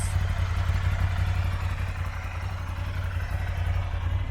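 A 2019 Ducati Scrambler Icon motorcycle idles on its stock exhaust, giving a steady, close, low throbbing rumble with an even pulse throughout and no other sounds.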